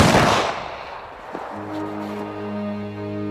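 A single loud gunshot bursts out and decays into a long echo, followed by a low sustained tone, as a firing squad executes a Soviet division commander and his two top officers during the Winter War in Finland.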